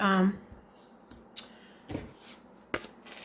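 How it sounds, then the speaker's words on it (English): Scissors cutting out paper snowflakes for a handmade card, a brief voice at the start followed by several quiet, scattered snips and crisp paper rustles close by. "These snowflakes cut out pretty easily"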